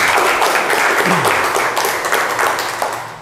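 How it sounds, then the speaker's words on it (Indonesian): Classroom applause for a student named Fajar in an automotive engineering lesson, a steady wash of clapping from a group that holds for about three seconds and then fades slightly. "beri tepuk tangan untuk Fajar"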